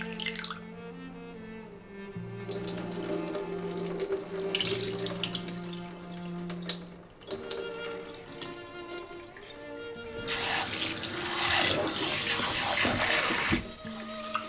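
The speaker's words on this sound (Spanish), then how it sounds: "Vamos a enjuagar nuestro arroz unas 2 veces o 3 hasta que el agua no salga tan blanca." Warm tap water running into a bowl as rice is rinsed, with a continuous splashing flow, shifting pours and dribbles, and a louder burst of gushing water near the end.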